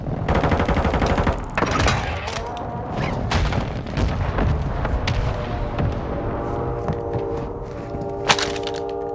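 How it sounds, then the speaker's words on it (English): Mortar strike explosions and gunfire in the Warzone 2.0 battle royale game: loud cracking shots and booming blasts crowd together in a dense, continuous barrage that thins near the end into a steady electronic tone. "Our mortar strike is inbound."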